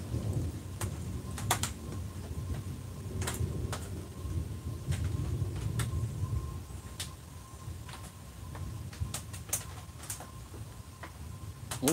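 Rain from a nearby thunderstorm falls steadily, with low rolling thunder and repeated sharp crackles and pops scattered throughout.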